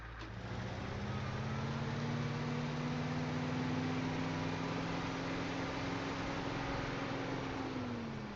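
Car engine driving in the Teardown video game, a steady synthetic engine hum with a slowly rising and falling tone under constant broadband noise, no talking.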